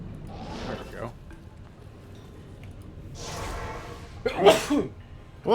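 A person sneezes in short, sharp bursts, a couple of abrupt explosive blasts a few seconds apart, near the microphone, with speech around them.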